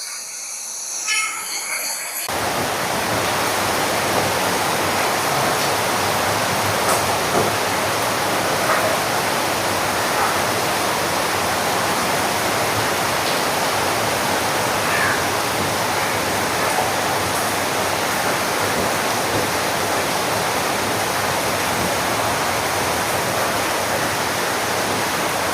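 Floodwater flows and rushes around a house after it has risen overnight, deep enough to reach about half a car's height. It is a steady, broadband wash that is loud and continuous throughout, with no voices.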